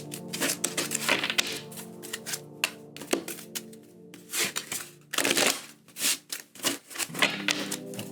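Repeated crisp riffling and slapping of a tarot card deck being shuffled up close, in quick bursts with brief pauses between.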